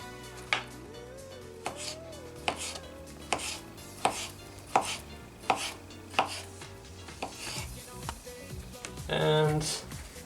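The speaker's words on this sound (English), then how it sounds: "this one we're also gonna cut up in small slices" A knife chops kielbasa sausage into small slices on a board, with sharp, evenly spaced thuds about every second. A person talks over the steady cutting.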